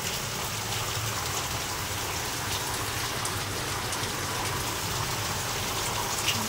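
Heavy pouring rain falls steadily, a dense even hiss of drops on surfaces close by, with no break and no voices.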